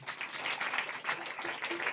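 A church congregation at a Sunday service claps for Sunday school children, a short burst of moderate applause with some voices mixed in.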